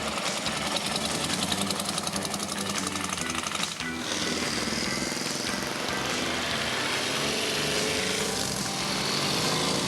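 A vintage Morgan three-wheeler, an old motorcycle-engined machine built in Malvern, runs with a loud, steady rapid engine clatter throughout, briefly dipping around the middle before carrying on at full volume.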